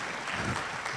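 Audience clapping at a graduation ceremony for a cybersecurity training programme, a dense, steady burst of many hands at moderate loudness filling the whole moment with no voices over it.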